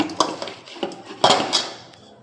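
Fish being mixed with turmeric in a pan for a mustard oil curry, a spoon clinking and scraping against the metal in several irregular knocks, close and fairly sharp.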